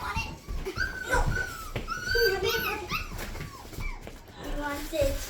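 A Shichon (Teddy Bear) puppy whimpers in thin, rising whines during post-bath play indoors, heard close over steady children's chatter.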